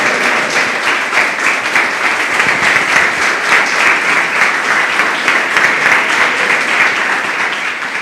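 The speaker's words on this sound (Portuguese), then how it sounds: "eu louvo a Ele com minhas palmas" A church congregation claps in praise during a worship service, a loud, dense, continuous roar of many hands that holds steady throughout.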